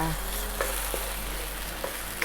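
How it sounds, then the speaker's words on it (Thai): Cooked meat in a pan being stirred with ground coriander seed and cumin, a steady close sizzle of frying with a few soft spoon scrapes and clicks against the pan, no talking. "คนให้เข้ากันนะคะ"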